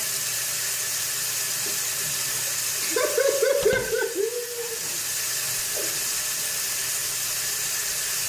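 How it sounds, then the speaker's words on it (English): Water squeezed out of a wet U-part wig after conditioning, a brief burst of splashing and dripping in the middle, with a small drip afterward, set against a steady background hiss. "And I'm just squeezing the water out."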